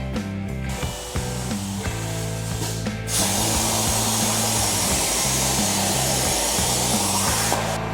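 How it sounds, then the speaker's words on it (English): Loud, continuous hiss and roar of 10 gauge steel being cut for a Yamaha G11 utility golf cart seat, harsher and brighter in the last five seconds, steady throughout with no talk. "We're gonna cut it out of 10 gauge steel."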